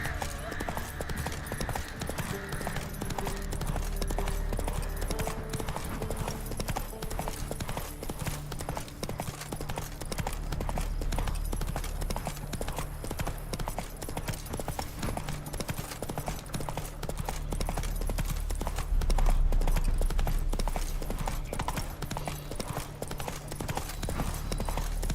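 Horse hooves gallop in a steady, rapid clip-clop rhythm in the video game The Witcher 3, continuing for the whole stretch at a moderate, even level.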